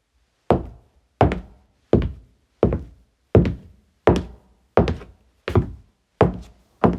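Foley knocks on a hollow old-house wooden floor: ten evenly spaced, deep, resonant thuds, each with a short boomy decay, close and isolated against silence.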